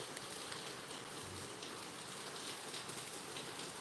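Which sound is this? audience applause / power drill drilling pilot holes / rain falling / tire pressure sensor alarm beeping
rain falling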